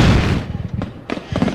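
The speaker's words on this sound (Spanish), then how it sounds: "de seguro es el vecino y sus fuegos artificiales" A neighbour's fireworks on Christmas night: a loud opening burst, then a quick run of crackling pops and two sharper bangs that follow in succession.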